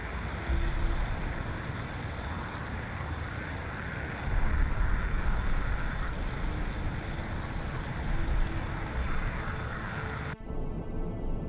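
Aircraft flying in a Cold War naval combat game, a steady broad engine roar with sea-like wash holding for about ten seconds, then cutting abruptly near the end.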